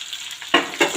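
Green garlic and green onions sizzle in a hot pan, a soft steady fry broken by two sharp bursts as the pan is stirred or shaken.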